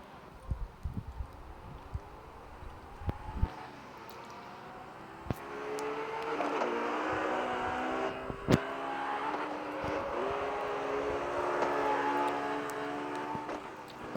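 A Honda S2000 engine in the CarX Street racing game rises from idle into a revving, accelerating drone with shifting pitch, preceded by a few clicks and thumps and holding at moderate loudness to the end.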